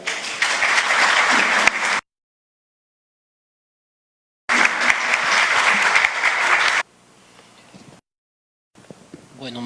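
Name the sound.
audience applause welcoming speakers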